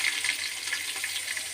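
Tempering spices and curry leaves sizzle in hot oil for a gongura chutney, a brief, steady crackling hiss heard close up with no voices.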